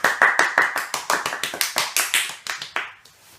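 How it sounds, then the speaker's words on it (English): A single person or small group clapping in a quick, even rhythm of about a dozen sharp claps over a few seconds, close and alone, ending in near silence. "Audience clapping."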